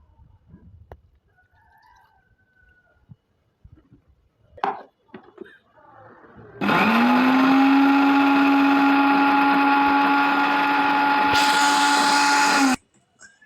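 An electric blender grinds a chocolate milkshake with milk, starting abruptly with a loud, steady whine that runs for several seconds before cutting off, preceded by quieter kitchen clatter and handling noises.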